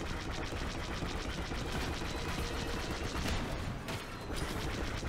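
Rapid blaster fire from a Star Wars Battlefront II match crackles in a dense, continuous stream across the whole stretch, loud and busy with game effects layered over it.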